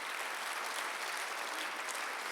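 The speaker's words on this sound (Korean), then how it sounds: "박수를 하세요." Distant, faint applause from a church congregation during a Sunday worship service, a steady wash of many clapping hands with no distinct individual claps, continuing evenly throughout.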